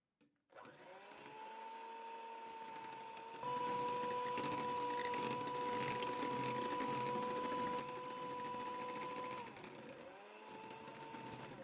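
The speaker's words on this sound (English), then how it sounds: "This process takes around 6 to 7 minutes depending on the speed of your electric mixer" Electric mixer whipping egg whites to stiff peaks for a peach tres leches cake, a steady whirring motor hum that rises in pitch partway through and holds, running alone without talk.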